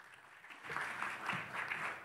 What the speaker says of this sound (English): So please give Alokik a big round of applause.